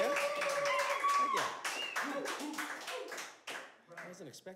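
Applause from a small audience at a live music session, a run of close clapping that thins out toward the end, mixed with a voice and lingering musical tones.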